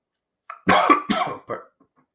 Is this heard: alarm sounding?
no